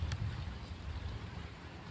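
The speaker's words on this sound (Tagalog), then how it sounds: "Sobrang lakas ng hangin mga idol." Steady low rumbling wind buffets the microphone, loud and constant throughout, with no other clear sounds.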